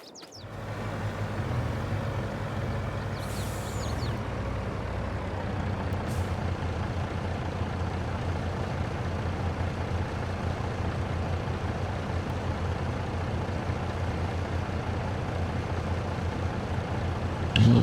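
A truck in a farming video game on a Griffin, Indiana map drives steadily, its engine a loud continuous rumble throughout, with a brief air-brake hiss near the start.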